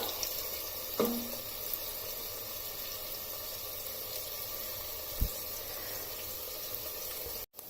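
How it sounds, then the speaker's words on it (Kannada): Chopped onions fry on a high flame for chicken palav, giving a soft, continuous sizzling hiss that is fairly faint, with a couple of small clicks and no talking. "ಹೈ ಫ್ಲೇಮಲ್ಲಿ ಫ್ರೈ ಮಾಡಿ. ನೋಡಿ ಫ್ರೈ ಆಗ್ತಾ ಇದೆ ಅಲ್ವಾ."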